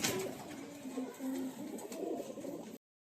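Pigeons up for sale in a loft coo in low, rolling phrases, several soft calls repeating steadily and fairly close, with no voices over them.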